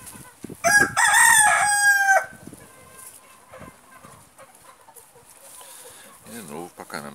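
Giant rooster with an injured leg crowing once, a loud drawn-out crow lasting over a second, followed by quieter clucks and a person talking nearby.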